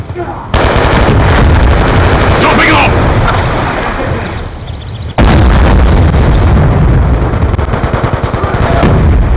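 A loud, close burst of gunfire and explosive booms fills a video game firefight, with rapid machine-gun bursts that cut off suddenly and then restart, while voices shout over the noise.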